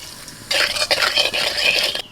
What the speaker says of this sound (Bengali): ওই তেলের মধ্যে দিয়ে দিচ্ছি গোটা জিরে